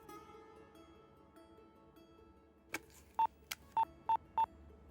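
A telephone is dialed in a Telugu film comedy scene, with a faint clunk followed by a short series of sharp, evenly spaced keypad tones, clear and close over a quiet background.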